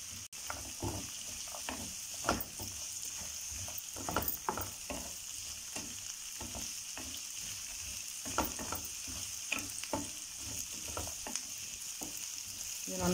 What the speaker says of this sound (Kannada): ಮತ್ತು ಶುಂಠಿನೂ ಹಾಕ್ತಾ ಇದ್ದೀನಿ ಇದಷ್ಟನ್ನು ಕೂಡ ಹಸಿ ವಾಸನೆ ಹೋಗೋ ತನಕ ಚೆನ್ನಾಗಿ ಎಣ್ಣೆಯಲ್ಲೇ ಫ್ರೈ ಮಾಡ್ಕೋಬೇಕು